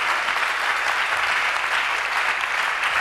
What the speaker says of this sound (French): Acclamons très fort pour le roi. Aidez-moi à bien acclamer.